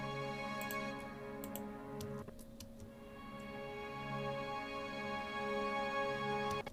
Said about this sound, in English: Let me play the just the flautando, and I'll change the mics.